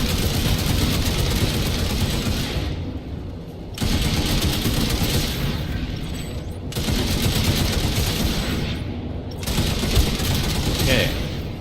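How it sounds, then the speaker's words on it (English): Light machine gun fire from a heavy soldier in the Planetside 2 shooter, rapid dense bursts of automatic shots in three long strings with short pauses between, loud and close over a rumbling background. "switch up to your LMG. Because you can pump so many shots in."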